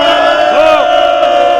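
A gathered Sikh congregation roars a jaikara slogan in unison at a protest, a loud sustained massed shout with rising and falling pitch, close and filling the space.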